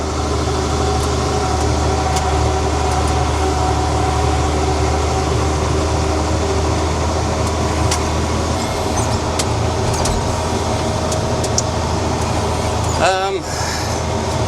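A tractor pulls a small hay rake across a drying hay field, its engine a steady, loud mechanical drone with continuous rattling, holding constant throughout with a brief disturbance near the end.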